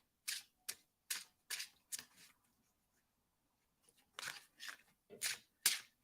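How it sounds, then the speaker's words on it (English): Quiet, brisk riffling bursts of cards being shuffled, several short swishes in two groups separated by a brief pause, close by. "Oh, you guys are hearing when I'm shuffling, aren't you?"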